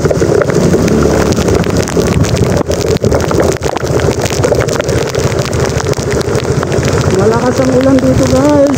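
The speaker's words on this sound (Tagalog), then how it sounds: "Malakas ang ulan dito" Heavy storm rain in Baguio City, Philippines, pours loudly and continuously, drumming on a surface, with a voice briefly audible toward the end.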